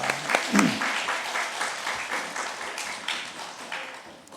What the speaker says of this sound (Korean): 큰 박수 한번 하겠습니다.